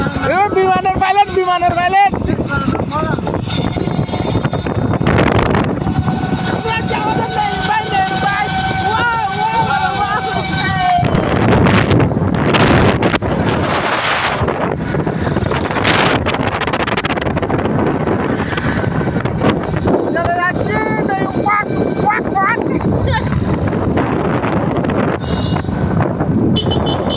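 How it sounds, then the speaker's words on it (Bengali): A motorcycle rides through Kazirhat bazaar with constant wind buffeting the microphone over the engine drone. People talk throughout, and brief tonal sounds from the busy market cut in. "কাজিরহাট বাজার উপর দিয়ে চলে যাচ্ছি আমরা মোটরসাইকেল নিয়ে।"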